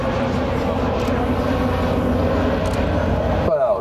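A Dornier 228NG twin turboprop climbs away from the runway at ILA Berlin 2018, a loud, steady droning engine and propeller roar that fills the whole clip and cuts off sharply at the end.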